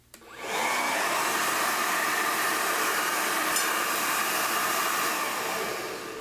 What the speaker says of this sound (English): you can take a hair dryer on hot, and you're just going to run the hot heat around the top of it